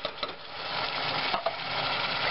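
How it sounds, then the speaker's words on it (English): Canned diced tomatoes tumble into a hot pan, giving a wet splatter followed by a steady sizzle with a few light clinks. "Going in, some canned diced tomatoes."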